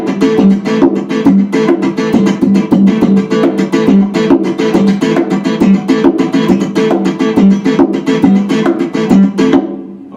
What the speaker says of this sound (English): I can actually hit percussive hits down here on the actual soundboard